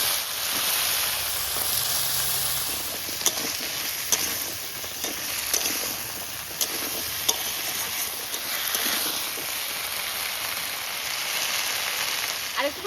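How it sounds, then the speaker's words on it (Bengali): Crab, shrimp and fish fry in a pan with cut taro and green chilli, a continuous oily sizzle with intermittent scraping stirs and clinks, close up, during heavy rain. "কাঁকড়া চিংড়ি মাছ ভাজা হয়ে গেছে, কেটে রাখা গাঁটি কচু আর কাঁচা লঙ্কা দিয়ে দেবো ওর মধ্যে।"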